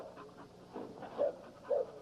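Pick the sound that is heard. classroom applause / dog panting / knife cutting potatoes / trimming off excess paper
dog panting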